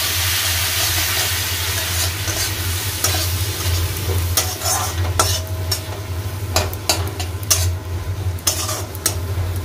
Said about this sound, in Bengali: দেখো সামান্য জল দিলাম, মশলাটাকে মিশিয়ে নেব।